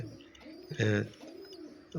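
Domestic pigeons kept on a rooftop farm coo nearby, a brief rolling burst of cooing followed by softer throaty murmurs, fairly close and alone without talk.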